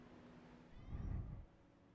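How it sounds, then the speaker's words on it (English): A single cat meow rises close by for about half a second amid quiet indoor background, with no talk over it. "He meowed at me when I said that."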